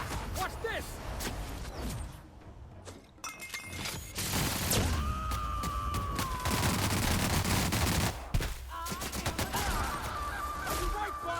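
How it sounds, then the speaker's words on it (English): Rapid bursts of booming mega cannon fire and crackling blasts erupt repeatedly amid sound effects in the video game The Outer Worlds, with voices talking over the chaos. "Lots of mega cannons here."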